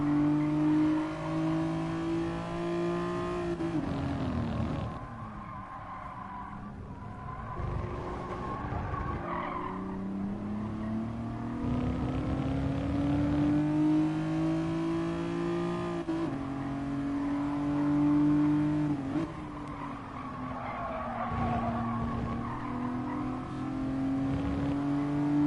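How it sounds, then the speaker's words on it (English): Race car engine in the GT Sport video game, revving hard and steadily through gear changes with rising and falling pitch, with tire squeal and sliding noise along the way. "I just like the handling of this car."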